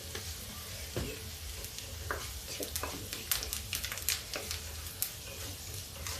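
Black mustard seeds crackling and popping in hot oil in a kadhi pan, a steady sizzle dotted with sharp irregular snaps that grow busier midway, close up with no talking.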